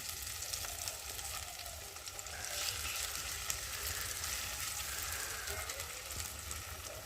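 Garlic and onion fry in a pan as ginger and cumin paste go in, a soft steady sizzle with faint crackles and stirring throughout, low in level.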